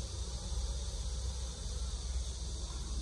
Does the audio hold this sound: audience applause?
no